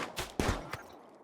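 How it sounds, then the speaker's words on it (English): Gunfire in the video game RimWorld: a few quick, sharp shot bursts in close succession that trail off into quiet, fairly soft overall with no voices. "Gunfire rings out."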